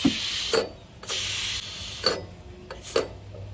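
Several short metallic clicks and clunks come close together, separated by brief hissing bursts, as a pressure cooker lid is worked open.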